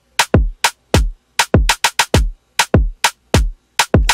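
A varied Afrobeats drum pattern built in Studio One plays as a loud, dry run of punchy kick and percussion hits with a syncopated, bouncing rhythm, each hit decaying quickly, with no voices.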